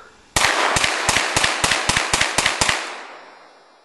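Nine sharp gunshots ring out in quick, slightly uneven succession from a 9mm pistol firing from a 10-round magazine, each crack loud and close, followed by a fading echo.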